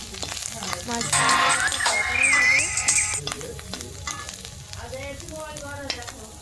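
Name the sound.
mushroom curry cooking in a pan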